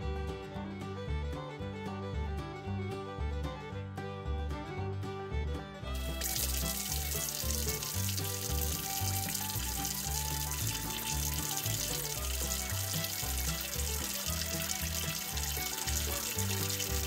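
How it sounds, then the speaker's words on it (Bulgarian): Raw salt-cured meat is washed under a running kitchen tap; a steady hiss of water starts partway through and continues over steady background music. "Ще измия месото първо под течаща вода."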